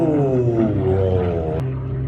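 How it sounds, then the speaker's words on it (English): An aerobatic propeller plane at the Moses Lake airshow, with a 330-horsepower engine droning loudly and steadily as its pitch shifts with the throttle, heard fairly close without talk. "You can hear him modulating the throttle. Then the full throttle coming out."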